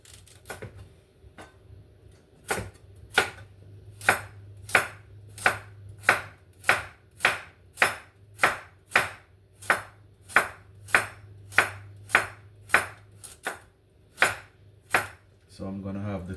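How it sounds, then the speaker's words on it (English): A knife slices a halved carrot into thin pieces on a board for a Jamaican bean stew, giving a steady run of about twenty crisp, evenly spaced chops, close and clear with no talking. "then I'm gonna slice them in small thin slices."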